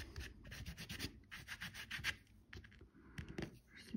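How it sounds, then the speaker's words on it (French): A brush scrubbed briskly over a small object, rapid rough strokes in uneven bursts with brief pauses, close and dry-sounding, no talking. "Un bon coup de brosse."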